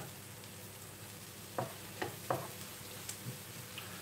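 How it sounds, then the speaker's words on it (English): Leeks and red onions soften in a wok with a steady low sizzle, broken by a few clacking stirs of a utensil against the pan, close and fairly quiet. "all we're doing here is softening the leeks of the red onions"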